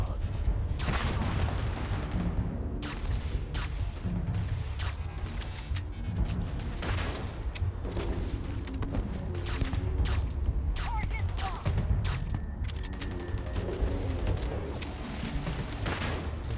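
Steady combat in Starfield: repeated gunshots and bursts mixed with heavier grenade-like booms, sustained at a constant intensity over a long stretch with no voices.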